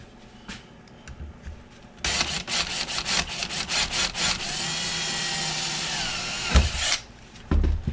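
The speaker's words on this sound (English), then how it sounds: "I'm using a 5/32 drill bit, I think." A power drill with a 5/32 bit whirs in short bursts, then runs steadily as the bit grinds through aluminum on a Cushcraft A3S antenna trap, loud and close, with a clunk before it stops.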